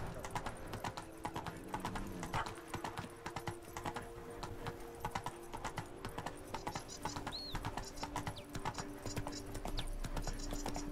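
Hooves of the horse Roach clip-clop steadily across a bridge in The Witcher 3 video game, a close, continuous rhythmic trot with faint bird chirps in the background.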